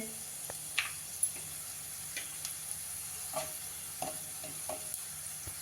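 Fenugreek seeds frying in a pan give a faint, steady sizzle with scattered small ticks and pops as they are stirred, quiet and close, no talk.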